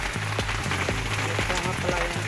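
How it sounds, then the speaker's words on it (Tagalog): Heavy rain falls around people stranded on an e-bike, drumming steadily with a rhythmic patter of drops tapping a nearby surface. "Lakas ng ulan kasi."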